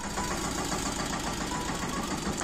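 A tractor engine idling close by, a steady low rumble with a rapid knocking pulse that continues evenly throughout.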